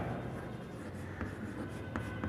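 Pen or chalk writing out a Class 10 statistics mean formula, a soft continuous scratching with a few brief sharper strokes, close and steady, with no talking.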